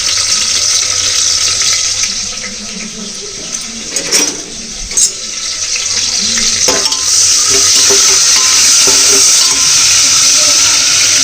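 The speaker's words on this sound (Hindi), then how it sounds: "तेल डाला गे, थोड़ा गर्म हो गई है और मैं डाल दूँगा जीरा और कटे हुए प्याज और मिर्ची ला।" Cumin, chopped onion and chilli fry in hot oil over a wood-fired chulha, a steady bright sizzling hiss that continues throughout with a few brief clatters midway and no talking.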